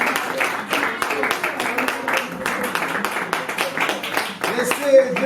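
Audience clapping at a school presentation as classes and teachers are introduced, a fairly dense run of claps mixed with voices talking throughout.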